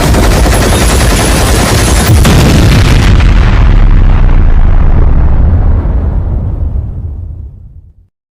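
A cartoon explosion blows something up with a loud, sustained roaring blast that fills the clip, then slowly fades away over its final seconds.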